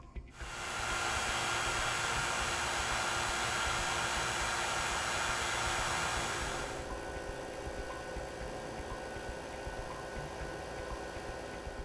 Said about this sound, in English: The other great part about this pump is that it's a lot quieter than our 4-line pumps